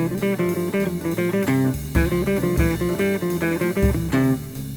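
Busy, wandering beginner guitar improvisation with dense, scattered notes and no settled melody, loud and continuous throughout.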